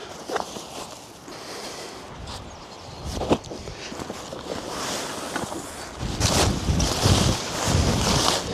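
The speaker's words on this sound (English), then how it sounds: "as you can see, it's a tad windy today" Strong gusty wind buffets the microphone in loud, roaring surges, with a few louder blasts near the end and no talking, outdoors while motorcycle camping.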